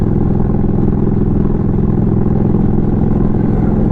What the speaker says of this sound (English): there's a big ass tractor